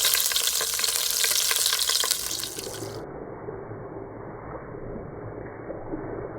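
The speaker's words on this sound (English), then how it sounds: "You can see we're getting some nice browning on that side there." Pork browns in an Instant Pot, giving a close, steady frying sizzle that drops to a quieter simmering hiss partway through, with no voices.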